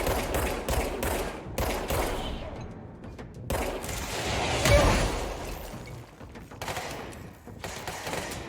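Gunfire in the video game Control comes in rapid bursts and volleys with short gaps between them, loud and close, mixed with booming impacts and no talking.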